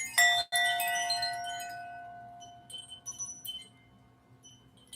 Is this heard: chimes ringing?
yes